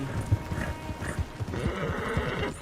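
A horse in the video game Red Dead Redemption 2, with hooves clip-clopping in a quick rhythm and a short whinny, close and fairly loud, with a brief bit of voice.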